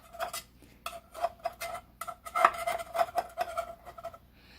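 A butter knife scrapes and taps around baked dough bites in a metal muffin tin, making a run of close, clinking metallic scrapes in uneven bursts, with no talk over them.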